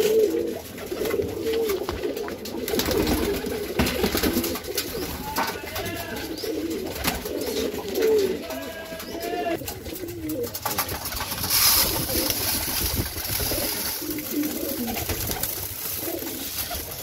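Pigeons coo in soft, repeated throaty calls at a morning feeding spot, with fluttering and other bird chirps mixed into a busy background.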